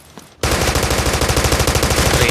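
Automatic gunfire from the mobile shooter Delta Force Mobile breaks out suddenly after a brief quiet moment. It becomes a loud, continuous rapid burst of evenly spaced shots that fills the rest of the moment.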